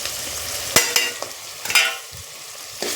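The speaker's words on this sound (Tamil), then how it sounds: "இது எண்ணெயில் ஒரு கரிஞ்சிடாமல் எண்ணெயில் ஒரு 2 வதக்கிடலாம்." Chilli powder, garam masala and turmeric sautéing in hot oil for a vada curry, a soft sizzle punctuated by a few sharp spoon scrapes against the pan.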